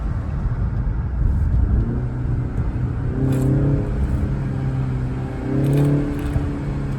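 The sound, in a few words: BMW car engine and exhaust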